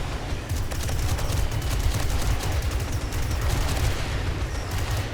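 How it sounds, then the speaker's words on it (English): In the video game 7 Days to Die, explosions rumble as a dense, continuous barrage, with heavy low booms and crackling bursts layered loudly through the whole stretch. "Explosion."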